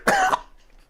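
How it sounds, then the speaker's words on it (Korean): A single sharp cough from a man who still has a lingering cold, close to the microphone, followed by a quiet tail. "기침이 중간중간에 아직도 나오고 있네요"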